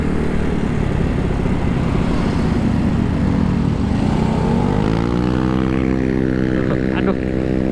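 A Yamaha Mio 150cc scooter fitted with a racing camshaft and Sonic valves roars continuously on a circuit ride, its engine pitch rising and falling with throttle changes, loud and close throughout.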